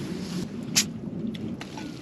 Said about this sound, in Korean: 이렇게 눈이 한 번씩 쏟아지는데 쏟아져서 텐트에 맞는 소리도 되게 이쁘다 그지?